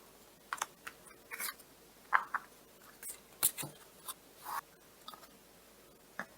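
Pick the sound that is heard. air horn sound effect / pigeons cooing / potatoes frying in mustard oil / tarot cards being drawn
tarot cards being drawn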